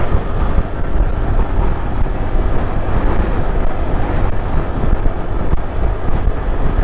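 Strong wind on the San Juanico Bridge between Leyte and Samar buffets the microphone with a loud, continuous roar and rumble that never lets up.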